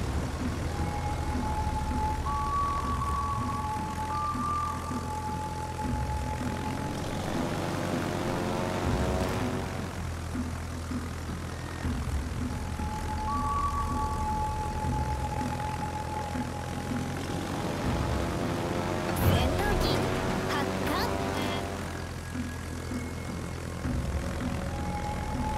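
Propeller aircraft engines from a Shokaku carrier's planes in World of Warships drone steadily and fairly loud throughout, with tonal engine whines rising and falling as planes pass, mixed with game background noise.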